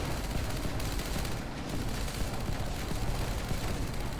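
A mortar weapon in a video game fires amid dense combat, a continuous loud barrage of booming blasts and rapid gunfire filling the whole stretch without pause.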